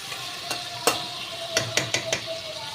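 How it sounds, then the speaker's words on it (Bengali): Shrimp fry lightly with turmeric in a pan under a quiet sizzle, broken by a few sharp utensil clicks and scrapes, several bunched close together near the end. "খুব বেশি ভাজবো না, চিংড়ি মাছ খুব বেশি ভাজতে নেই"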